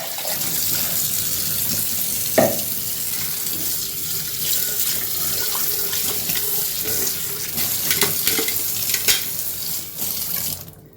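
Tap water runs steadily into a kitchen sink while something is rinsed during coconut pitha preparation, a constant splashing hiss with occasional clatters and clinks throughout.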